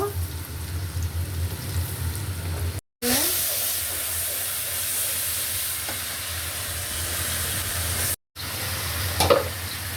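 Chopped onion frying in oil with salt in a home kitchen, a steady loud sizzle and hiss broken by two brief cuts, with occasional stirring scrapes.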